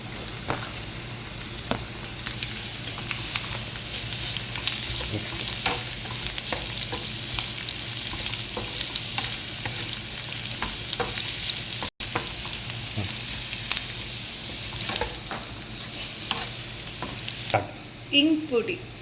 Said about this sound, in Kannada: ಸ್ವಲ್ಪ ಬ್ರೌನ್ ಆಗೋವರೆಗೂ ಫ್ರೈ ಮಾಡ್ಕೊಳ್ಳಿ.